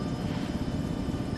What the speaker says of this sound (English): I can tell roughly by sound how close a helicopter is